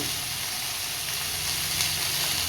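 Onion masala sautéing in a pan for an egg gravy, a steady close sizzling hiss with faint stirring, no talk.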